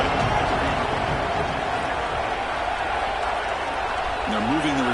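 A stadium crowd roars steadily through a third-down play in a college football video game's PAC-12 championship against Texas A&M, a dense, continuous wash of cheering under a commentator's voice.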